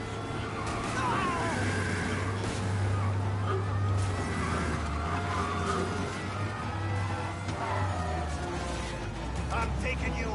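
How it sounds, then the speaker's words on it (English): A car in the Mafia video game driving fast, its engine a steady, loud droning hum with wind-like rushing that runs unbroken throughout. "We lose them by driving real fast and getting clear of them."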